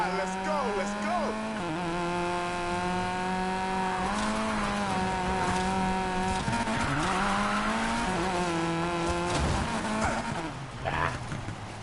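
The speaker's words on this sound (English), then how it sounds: "Only thing about the Miata is just it's so light and it wants to float" A Mazda Miata racing in Need for Speed Payback, engine droning steadily and shifting pitch as it revs up and down, with tire squeals and skids along the way and some talking over it.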